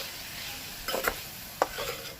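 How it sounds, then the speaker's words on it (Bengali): A spice mixture with Kashmiri chilli powder is stir-fried in a pan, a quiet sizzle broken by a few short scraping stirs of the spoon, with no talking. "এবার এটাকে একটু কষিয়ে নেব"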